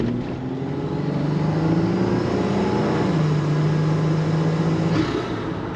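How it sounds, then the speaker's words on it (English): A 1991 GMC Syclone all-wheel-drive turbocharged pickup accelerates, engine note rising steadily with turbo whoosh, loud and close from inside, no talking. "You just hear the whoosh of the power adder shoving the air down the engine."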